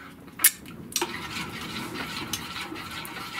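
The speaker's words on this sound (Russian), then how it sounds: "Обязательно непрерывно помешивайте, непрерывно." A mushroom béchamel sauce being stirred in a pan: a spoon scrapes and knocks against the pan with a couple of sharp clinks near the start, then quieter continuous stirring.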